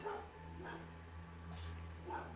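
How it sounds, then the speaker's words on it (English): Several dogs bark and yip in short bursts as a sound effect during a tabletop Advanced Dungeons & Dragons game, fairly faint and steady across the stretch. "I can hear the dogs too."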